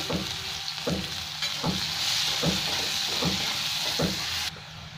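Chopped onion sizzles and fries in hot oil in a pan for Bengali egg curry, a steady close crackle with regular stirring scrapes about every half second, no voices.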